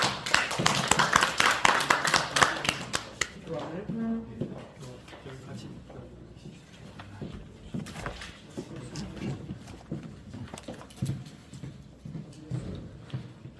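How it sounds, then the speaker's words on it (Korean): An audience at a theology workshop applauds to welcome a lecturer, loud dense clapping at first that thins into scattered claps while a voice speaks. "박수로 환영하겠습니다."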